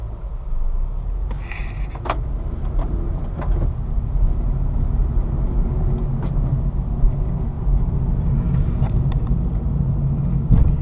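A 2008 Honda Civic LX sedan with a 5-speed manual on the road, its engine giving a steady low drone and rumble heard from inside the cabin, with faint road noise and a few brief clicks.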